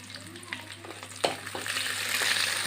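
Curry leaves, slit green chillies and dried red chillies crackle in hot oil for a squid and coconut stir-fry; a steady sizzle builds louder, with a sharp pop partway through and no talking.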